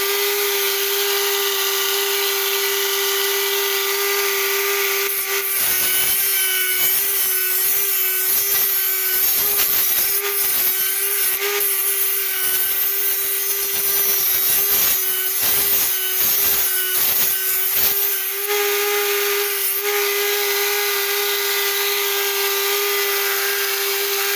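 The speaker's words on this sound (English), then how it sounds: "I have a flexible shaft for my Dremel." A Dremel rotary tool driven through a flexible shaft grinds on motorcycle stator and primary parts, giving a loud, continuous high-pitched whine with rough, scraping bursts where the bit bites into the workpiece.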